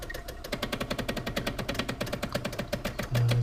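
A Decent Espresso machine's pump running during an extraction, a rapid steady buzzing pulse with a mechanical vibration, close and loud, ending with a lower steady hum.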